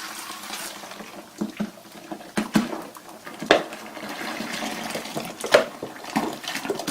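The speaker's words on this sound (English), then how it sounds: "you want to put enough club soda in there to submerge the" Club soda is poured into a container to soak a cotton gauze filter, with splashing, liquid trickles and a few sharp knocks against the container, close and moderately loud with no talking.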